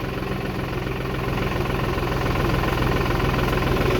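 A New Holland TD4 65 B farm tractor engine running steadily in an olive grove, a loud continuous diesel rumble with a fine rhythmic knock throughout, heard close by with no talk.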